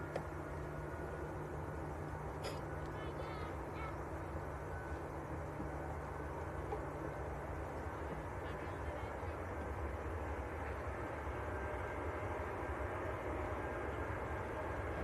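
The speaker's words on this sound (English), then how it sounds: "This is the Virgin 127 Charlie to New York's JFK Airbus A330" A Virgin Atlantic Airbus A330 heavy departure rolls for takeoff at Manchester Airport, a continuous distant roar of jet engines, faint and steady, with brief voices early on.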